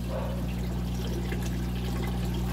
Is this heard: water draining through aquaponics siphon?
yes